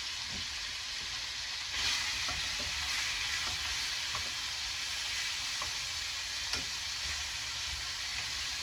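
Kangaroo meat searing in a very hot pan for a medium-rare finish, a steady loud sizzle with occasional small pops and the odd stir, continuous and close by.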